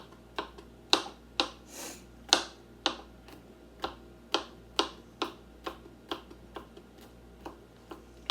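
A knife chops food fairly small on a board, sharp distinct taps landing in a steady, slightly uneven rhythm, close and clear.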